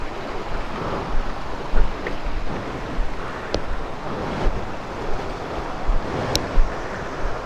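Water tumbling down small mini waterfalls at Sangbay ni Ragsak Falls in Suyo, Ilocos Sur, a steady, fairly loud rushing wash with occasional splashes and no talking.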